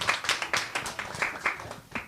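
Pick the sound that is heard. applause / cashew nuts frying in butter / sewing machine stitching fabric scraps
applause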